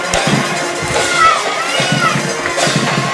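Football crowd at a Pelham vs Miller County high school game in 2012, shouting and arguing over a missed pass interference call, a steady roar of many voices with scattered louder yells and children's shouts close by.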